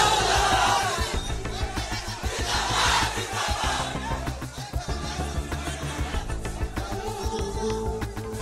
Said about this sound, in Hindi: गाजीपुर में मुख्तार अंसारी के घर के बाहर लोगों की भीड़ बढ़ रही है